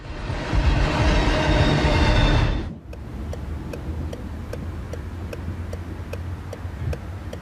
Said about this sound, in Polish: Parowóz ciągnący wagony towarowe wytwarzał ogromną ilość dymu, unosząc gęste chmury nad torami.